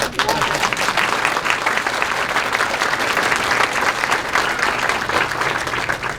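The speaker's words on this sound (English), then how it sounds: "We can applaud that." Sustained applause from the audience at a vocational student awards banquet, with dense, even clapping from many hands throughout the hall that holds steady and fades slightly at the end.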